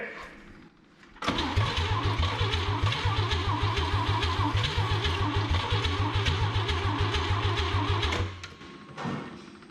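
A 1959 Chevrolet Biscayne rescued from a junkyard cranks on and on in a fast, rhythmic starter chug. The car is close and loud and does not catch, and the cranking stops abruptly near the end.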